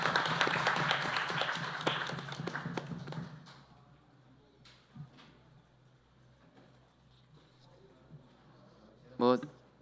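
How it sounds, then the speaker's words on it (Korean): An audience at the founding event of a cybersecurity research institute claps vigorously in thanks for a few seconds, then the applause dies away into near silence, broken by a voice and a few faint knocks. "우리 바쁘신 가운데 참석해 주신 임종인 특보님께 감사의 박수를 보내주시면 감사합니다."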